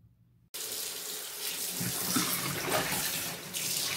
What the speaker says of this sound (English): now I'm going to submerge my shirt completely inside.